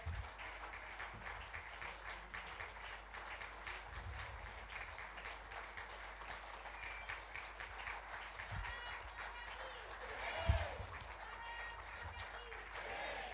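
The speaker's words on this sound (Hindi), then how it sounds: "तालियां रुकनी नहीं चाहिए भाई" Faint, steady applause from a stage-show audience as a Mahatma Gandhi character slowly enters, sustained as a distant wash of clapping for several seconds.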